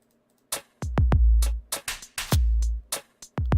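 Dry, punchy electronic drum hits play in a loose rhythm, deep booming kicks and sharp clacks, with no echo or tail after each hit.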